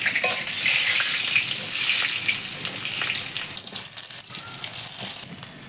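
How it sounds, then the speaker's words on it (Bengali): Cumin seeds and bay leaves hit hot oil in a pan for a Bengali hilsa and ash gourd curry, giving a loud, continuous, close sizzle and spatter that holds steady throughout. "জিরে আর তেজপাতা ফোড়ন দেবো"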